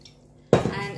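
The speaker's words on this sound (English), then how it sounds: "And add the water to my lentil." Water poured into a pot of lentils for daal makhni, a sudden close splashing pour that begins midway and keeps running to the end.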